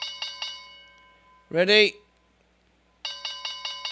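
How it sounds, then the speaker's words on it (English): A bell is rung repeatedly in quick, bright metallic bursts, with a short spoken word in the pause between the two rounds of ringing. "I'll keep ringing the bell until they give me some free money."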